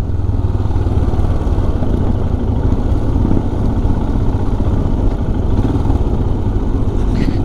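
A vintage motorcycle with an old Enfield 411 engine rides on a public road among other vintage bikes, giving a steady, loud, close engine drone with constant rumble and wind, no voices.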